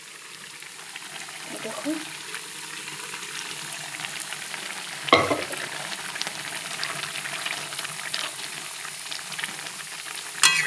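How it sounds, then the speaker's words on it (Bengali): Boiled arhar dal poured into a sizzling tadka for Bihari dal, giving a soft bubbling sizzle with a sharp splash midway, under occasional speech. "তো এখন এই ডালটা এর মধ্যে আমি দিয়ে দিচ্ছি।"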